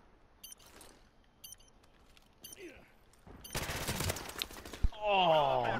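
Video-game gunfire: a few sharp isolated shots, then a dense burst of rapid fire followed by a loud blast like a grenade explosion, with faint voices in the background.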